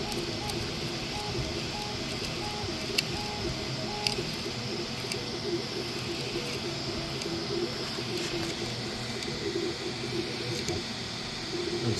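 An older Ender 3 3D printer prints parts with a steady whir of stepper motors, faint ticks and clicks scattered through an even, moderately quiet mechanical hum.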